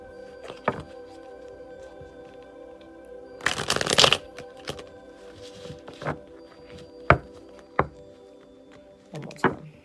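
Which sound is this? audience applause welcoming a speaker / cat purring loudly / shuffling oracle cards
shuffling oracle cards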